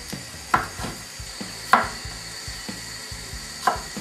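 Peeled German carrots chopped on a board with a knife, a handful of sharp, distinct knocks spaced irregularly, close and fairly loud against a quiet kitchen background.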